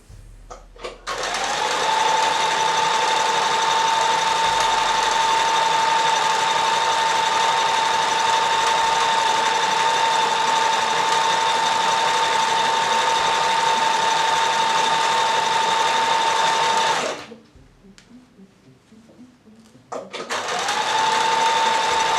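A sewing machine stitches a cami top in a steady, loud, continuous whir with a constant hum, stopping abruptly near the end before briefly starting up again.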